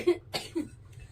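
A person coughs three times in quick succession, close and fairly loud, with short breaths between the coughs in a quiet indoor home setting.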